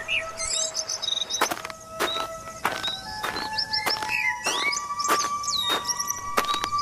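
Birdsong in an animated Kyrgyz mountain fairy tale: several chirping, tweeting birds sing at once, with bright whistled calls over a run of sharp rhythmic clicks or steps, fairly loud and continuous, with no talking.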